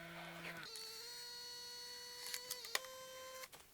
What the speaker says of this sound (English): within a few seconds you actually get the share printer printing out your Instax Square or Instax Mini sized print